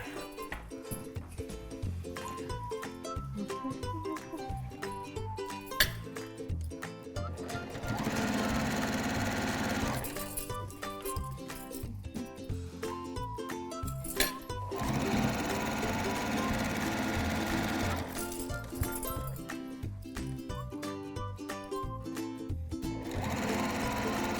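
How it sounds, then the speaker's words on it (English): Sewing machine stitching down quilt binding in long steady runs, its close, even mechanical chatter broken by two short pauses between bursts. "we're just going to sew this down"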